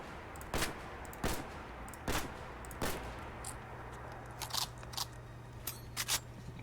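Modded rifle fire in the Fallout 4 video game: four sharp, evenly spaced shots, then a few lighter clicks and clatter. The sound is fairly quiet overall, with no talk.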